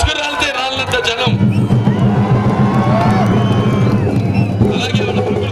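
A huge outdoor rally crowd cheers and roars continuously, a loud dense wall of voices with shouts and whoops rising above it.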